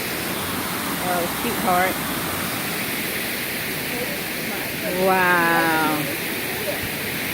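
A round waterfall out in nature makes a steady, loud, broad roar throughout, while people talk briefly over it.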